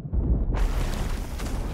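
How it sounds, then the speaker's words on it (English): A gunpowder keg blows up on a ship in the pirate game Sea of Thieves, a single deep, heavy boom that erupts suddenly and rolls on in a loud, rumbling tail. "Yep, boat's been kegged."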